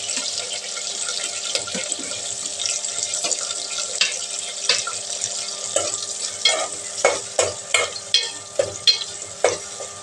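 Green chili, onion and tomato frying in a pan for drumstick sambar: a steady oily sizzle under repeated scraping strokes of a stirring spoon, the stirring growing into regular rhythmic knocks toward the end, close up and without speech.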